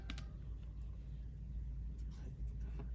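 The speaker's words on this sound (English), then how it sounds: "it sounds like a huge truck is outside" A large truck rumbles outside as a faint, steady low drone heard from indoors, with a few light clicks on top.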